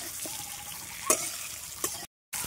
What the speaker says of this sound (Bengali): এটা নেড়ে নেবো ভালোভাবে।